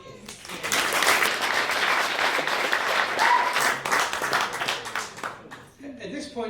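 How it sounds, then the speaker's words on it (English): Wedding reception guests break into sustained applause, dense clapping filling the room and holding steady for several seconds before tapering off near the end, with scattered voices mixed in. "I think it deserves a round of applause."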